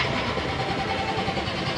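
An engine freshly back from maintenance runs at a steady idle, a close, continuous mid-pitched mechanical rumble with no break and no voices.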